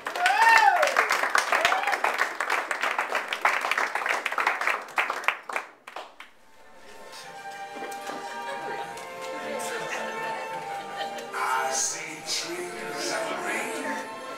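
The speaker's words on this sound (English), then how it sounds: "Give yourself one more big round of applause for coming out on this lovely Saturday evening." Wedding guests at the Yankee Clipper Inn clap during bridal party introductions on a Saturday evening, a dense burst of applause in the first half that gives way to background music.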